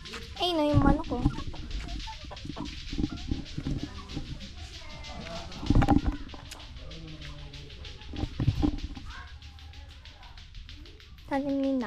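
Domestic chickens cluck in short bursts around a family home, with intermittent louder calls standing out over background chatter and people talking nearby.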